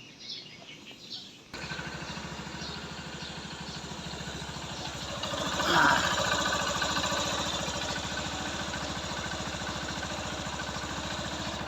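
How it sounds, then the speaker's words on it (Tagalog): A Honda TMX Supremo motorcycle with stator issues and its battery removed starts up and settles into a steady, close idle, a continuous putter that swells briefly before holding even. "Umaandar yung motor na yan."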